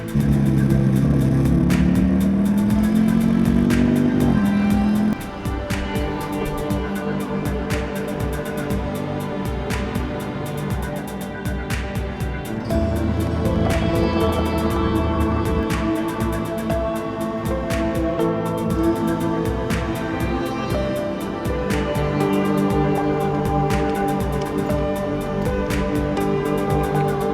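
Honda NT1100 touring motorcycle, built on the Africa Twin platform, ridden on Romanian mountain roads such as the Transalpina. Its engine drones steadily and loudly, revving and rising in pitch early on, then holding a continuous cruising note with wind noise.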